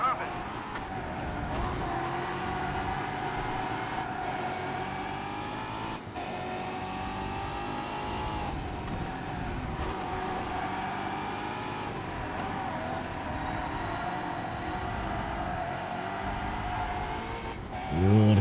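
Race car engine from a DTM touring car in ToCA Race Driver 3, droning steadily at high revs for the whole stretch with slight pitch shifts through gear changes, loud and continuous, with a voice talking over it.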